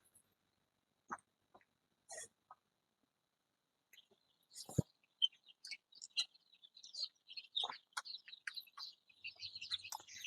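Young Black Australorp chicks in a brooder chirp in quick, scattered peeps, sparse at first and then a busy flock of soft, high calls, faint and fairly close.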